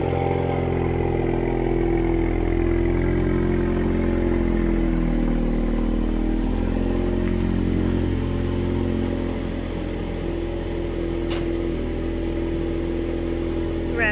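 A Mustang engine idles steadily, a low continuous rumble with a faint rattle, close by and holding an even level throughout.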